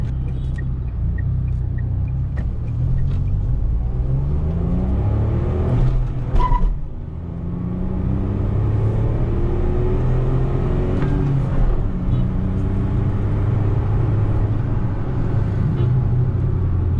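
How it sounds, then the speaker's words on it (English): A Tata Altroz Racer hatchback with a 1.2-litre turbocharged petrol engine drives through the city, its steady engine drone and road rumble rising and falling in pitch as it shifts and accelerates, heard from inside the cabin. "driving the Altroz Racer"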